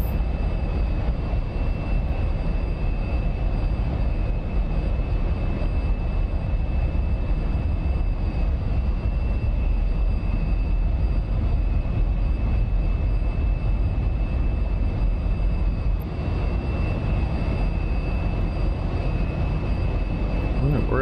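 SR-71 Blackbird jet engines roaring on full afterburner during a takeoff roll in the DCS flight simulator, a loud, steady, unbroken rumbling roar that holds for about twenty seconds.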